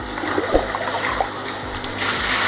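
Pond water poured and flushed through a koi pond biological filter chamber during a backwash, a continuous splashing and gurgling flow with a few knocks, close up, without talk.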